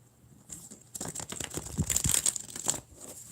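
A deck of tarot cards is shuffled up close in a quiet room, a soft scattered patter of papery riffles and rustles that builds in the middle and then fades.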